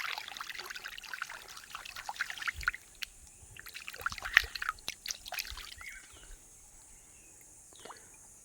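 Water trickles and splashes irregularly as a mango is rinsed outdoors, soft close dribbles and drops in uneven bursts, fading toward the end.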